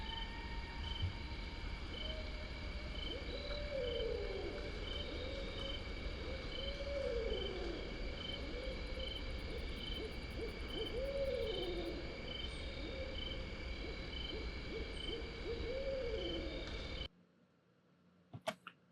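An owl in an overnight outdoor recording giving several repeated hoo-ah calls at a steady rhythm, each winding down with a trill. The calls are distant and faint over a constant insect drone, and the sound cuts off abruptly near the end.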